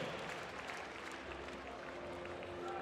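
A crowd applauds at a handball medal ceremony after the Spain versus Croatia bronze-medal match of the 2014 European championship, with steady, distant clapping that fills the arena.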